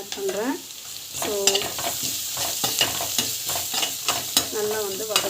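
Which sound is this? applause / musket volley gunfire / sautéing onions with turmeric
sautéing onions with turmeric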